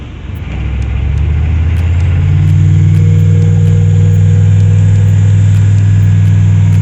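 A 6.5L diesel truck engine, just fitted with a new transmission, settles into a loud, steady idle close by, its low rumble building over the first couple of seconds and then holding even, with no talking.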